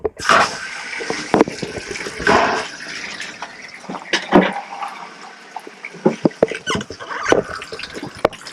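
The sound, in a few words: water flowing from a thawed pipe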